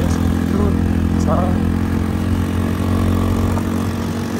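A motorcycle riding a rough mountain road toward Upper Mustang from Muktinath, its engine droning loud and steady throughout with wind noise over it.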